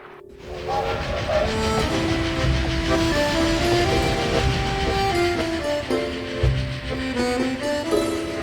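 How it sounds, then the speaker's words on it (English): Train ride in the video game Dracula 3: The Path of the Dragon, a steady rumbling carriage bed with clickety rail noise, layered under sustained orchestral game music throughout. "I took the train for Bucharest, then Constantinople."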